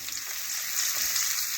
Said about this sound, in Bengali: মাথাগুলো উল্টে পাল্টে ভালোভাবে ভেজে নেব